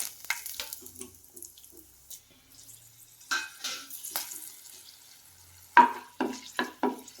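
Cinnamon, cloves, star anise and a bay leaf frying in hot oil in a home kitchen; soft, faint sizzling with a few sharper clatters toward the end, no talking.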